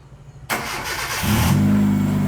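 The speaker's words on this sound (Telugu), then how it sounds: "వెహికల్ స్టార్ట్ చేసి చూడు, గేర్ న్యూట్రల్ చేయు, గేర్ న్యూట్రల్ చేసి వెహికల్ స్టార్ట్ చేయి." A Hyundai Accent engine cranks briefly in neutral, then catches and settles into a steady, loud running hum close by, with a somewhat loud silencer.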